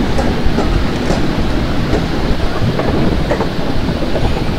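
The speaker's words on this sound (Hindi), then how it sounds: "चलिए गाइस पूरी मेन लाइन पे अपनी ट्रेन आ चुकी है तो थ्रॉटल पावर इंक्रीज करते हैं और यहाँ से डिपार्ट करते हैं स्पीड में।" An Indian Railways Jhelum Express train runs on the main line in the Open Rails train simulator game, giving a loud, steady rumble with faint rhythmic clickety-clack and no voices.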